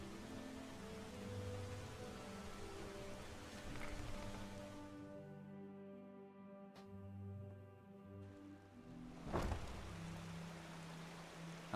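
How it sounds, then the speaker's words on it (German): Rain falls steadily in the fantasy video game Enderal, a soft continuous hiss that runs beneath tonal background music throughout, with a brief louder swell near the end. "Aber nee, es fängt einfach an zu regnen."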